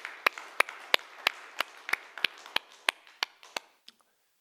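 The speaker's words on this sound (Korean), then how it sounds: "우리 모두 하나님께 박수로" A church congregation claps in a steady rhythm during Sunday worship, about a dozen sharp, evenly spaced claps, fairly quiet and clear, with no talk over them.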